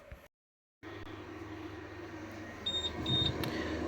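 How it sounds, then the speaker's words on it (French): An inverter sounds its low-voltage alarm during a battery capacity test, two short high beeps in quick succession over a steady hum, close by. "Donc j'ai une alarme tension basse du convertisseur."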